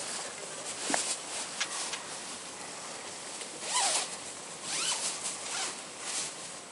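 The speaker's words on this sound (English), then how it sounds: "just open the zippers for me" Zippers on a boat bag pulled open during a safety check, several close raspy zipping runs with brief pauses between them, under low background hiss.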